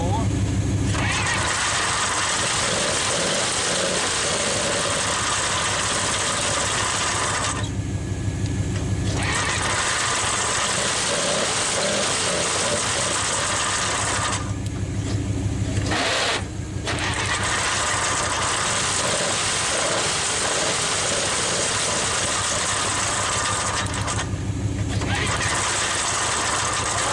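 A 1946 Dodge truck starting for the first time in decades, its engine loud and rough with popping and sputtering, cranking and cutting out several times while people talk nearby.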